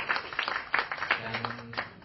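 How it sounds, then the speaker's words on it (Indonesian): Audience at a debate clapping, a brisk, uneven patter of many hands that stays lively throughout, with a voice faintly underneath. "tepuk tangan untuk aksi"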